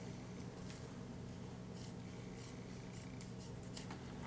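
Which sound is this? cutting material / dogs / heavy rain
cutting material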